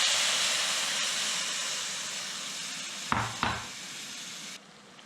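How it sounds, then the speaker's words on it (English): Broth goes into a hot pot of carrots, raising a steady, loud hiss and sizzle that fades slightly over a few seconds, punctuated by two quick metallic clunks before the sizzle cuts off. "Now I'm going to turn up the heat and add the broth."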